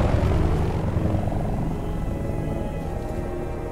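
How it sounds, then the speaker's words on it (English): Russian military helicopters in Battlefield Bad Company 2 give a steady, droning rotor and engine roar that holds at a fairly even level throughout, with no voices over it. "Russian choppers, man, they shouldn't be here."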